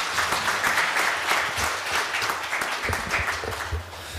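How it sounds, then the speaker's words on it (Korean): An audience at a political debate forum applauds before the discussion begins, a lively close burst of clapping with distinct individual claps and slight swells, continuing steadily and tapering a little toward the end. "뜨거운 박수 한번 주시고 시작하겠습니다."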